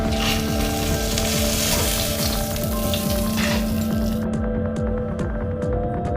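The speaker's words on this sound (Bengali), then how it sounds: "বাকি ভেটকি মাছগুলো কড়াই দিয়ে দিচ্ছি।" Pieces of bhetki (barramundi) fish fry in hot oil in a wok, giving a loud, dense, continuous crackling sizzle with a steady low hum beneath; the sizzle thins out slightly near the end.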